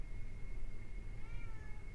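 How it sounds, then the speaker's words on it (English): A house cat meows in one drawn-out, wavering cry that rises and falls over a low rumbling background, close and clear. "my cat wants to be fed."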